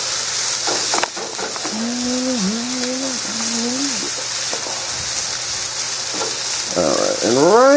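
Rice stir-frying with green onions in a hot pan for Chinese chicken fried rice: a continuous loud sizzling hiss with occasional stirring knocks, while a voice talks and hums over it.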